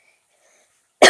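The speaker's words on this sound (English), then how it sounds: "Why do I have such a bad cough all of a sudden?" A single sharp cough bursts out at the very end after near silence, close and loud.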